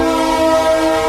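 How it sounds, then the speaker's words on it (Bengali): A train horn blares steadily and loudly for the whole short moment, a sustained harmonic tone with no voices over it. "ওই যে হর্ন দিতে পুপু করে"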